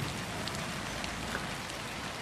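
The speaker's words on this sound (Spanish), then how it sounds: "¡Que está lloviendo!" Steady rain falling on a surface, a constant dense patter with occasional louder drops, no voices.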